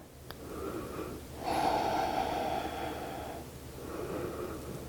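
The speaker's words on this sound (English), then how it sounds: "Breathing in and out through the nose." Slow nasal breathing during a Pilates mat mobility stretch, a soft airy inhale and exhale rising for a couple of seconds and then easing off, close and fairly quiet with no talking.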